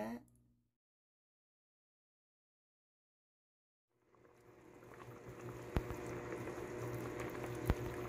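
Dried pollack and egg soup coming to a boil in a pot, a low bubbling rumble that swells after a brief sound and a few seconds of silence, with two sharp clicks.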